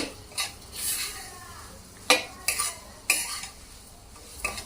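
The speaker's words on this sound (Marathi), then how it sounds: "दोन मिनिटांसाठी आपण हे परतून घेऊयात रवा आणि केळी साजूक तुपामध्ये व्यवस्थित परतलेली आहेत" Spoon stirring semolina and banana roasting in ghee in a pan for sheera, with soft scraping and a few sharp metallic taps against the pan over a faint sizzle, close and fairly quiet.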